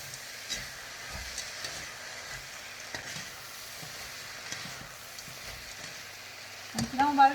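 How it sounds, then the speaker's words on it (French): Vegetables stir-fry in a wok over a fire at full heat for an Asian shrimp noodle dish, with a steady sizzle and scraping stirs, louder clatter near the end, and talk in the background. "On va mettre les légumes. Il ne faut pas arrêter de remuer"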